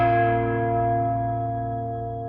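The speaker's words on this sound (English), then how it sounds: "The bell invites me" A single deep church-style bell struck once, its rich ringing tone hanging and slowly fading with no voices over it.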